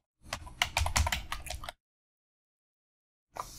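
Rapid keystrokes on a computer keyboard rattle close and clear for about a second and a half, then silence, then a few more keys at the end.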